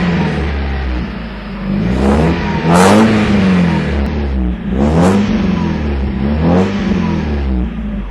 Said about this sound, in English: a couple quick revs.